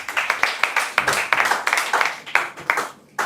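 A small meetup audience clapping for a speaker after a data build tool talk, with distinct individual claps in a loose, uneven rhythm, close and fairly loud, thinning out near the end.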